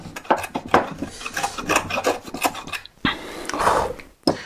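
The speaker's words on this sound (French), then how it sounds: "le guillaume, lui, va vous permettre d'usiner à plat et d'usiner proche des bords ici" A rabbet plane shaves wood flat close to the edges, giving a quick run of rasping strokes followed by one longer, smoother pass, close and fairly loud with no talking.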